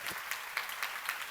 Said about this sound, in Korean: 빨리 박수를 하세요.